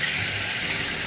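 Tap water runs steadily over carrots being rinsed in a kitchen sink, a short close splashing rush with no talking.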